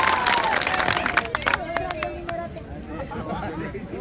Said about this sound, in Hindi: भाई को जोरदार ताली मारो